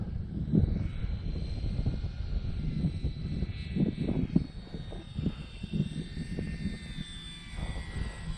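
A radio-controlled model airplane flies overhead, its small engine droning and whining at a moderate distance, rising and fading slightly as it circles.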